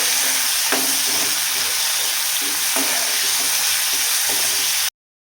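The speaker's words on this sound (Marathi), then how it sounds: "आणि आता आपला कांदा आणि टोमॅटो आहे तो मस्त छान परतून घेतला मी." Onion and tomato sauté in a pan for a spicy soybean curry, a loud, dense sizzle with a few stirring knocks, running steadily close up until it cuts off abruptly.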